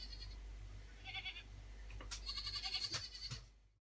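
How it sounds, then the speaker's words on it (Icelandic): Icelandic goats of the old settlement breed give a few quavering bleats close by, short calls at first and then a longer trembling one, over a low steady hum before fading to silence. "Geitur jarma en á allt annan hátt en kindur."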